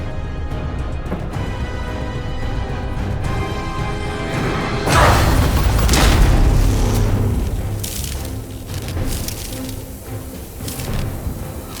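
A massive Iron Heart explodes in The First Descendant, a deep booming blast that swells into a long rumbling roar with crackling debris, loud and sustained over an underlying hum, with no voices.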